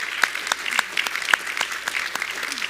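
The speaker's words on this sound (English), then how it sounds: "Let's give Wenxiao a round of applause." A church congregation at a Sunday morning service gives a round of applause, a dense patter of many hands clapping at moderate loudness that keeps going for the whole stretch.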